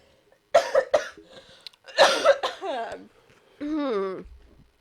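A person coughs a few times in harsh bursts during a spicy wing challenge, close up, with a short voiced sound at the end like a groan or clearing of the throat.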